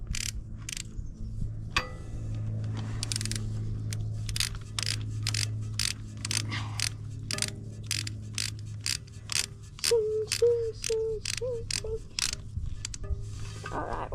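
Ratchet socket wrench working on a dirt bike during an oil change, with a rapid series of sharp mechanical clicks in quick rhythmic strokes, close and distinct over a low background hum.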